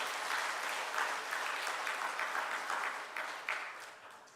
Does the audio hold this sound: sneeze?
no